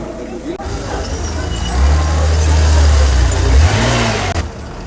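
A car engine revs and roars up close, rising from about two seconds in and holding a loud low drone before easing off near the end, alone with no talk over it.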